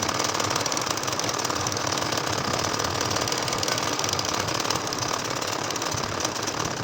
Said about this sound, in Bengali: এখন দেখো আবারও আমি একইভাবে কিন্তু সেলাই করে নিচ্ছি